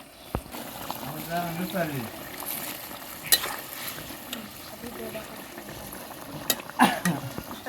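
Spices go into a bubbling silver carp fish curry in a pot, giving a steady frying sizzle with stirring scrapes and a few sharp clatters, while a voice briefly talks over it.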